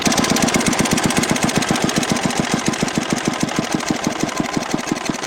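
An engine runs steadily close by, with a loud, even, rapid thumping knock and constant mechanical rumble throughout.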